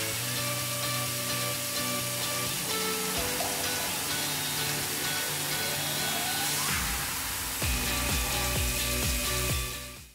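An Amana RC3400 four-flute, roughly 2.5-inch CNC face mill cuts brass with a loud, continuous high whine and hiss that shifts in character partway through and again near the end, then stops abruptly.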